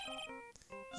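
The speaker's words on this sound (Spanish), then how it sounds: "Vamos a llamar a mi teléfono móvil." A mobile phone ringtone plays inside the Phoenix Wright: Justice for All video game, a short bright electronic melody of quick tonal notes, clear and alone.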